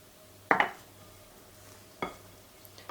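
Butter being stirred into a soufflé omelette mixture in a bowl: two short scraping clinks of the utensil against the bowl, a faint third at the end, with quiet pauses between and no talking.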